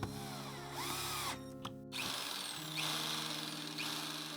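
A re-greased jigsaw with a misaligned brush runs loud and whining nearby, cutting out briefly with a few faint knocks before the motor whirs up again.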